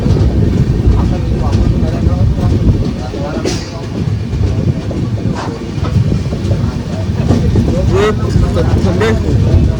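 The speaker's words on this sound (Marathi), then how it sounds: "ट्रेन आमची स्टार्ट झाली बघा आता खूपच जवळ आहे" A passenger train rumbling steadily with a heavy low drone and some rattling as it starts moving, close by, with voices talking over it at times.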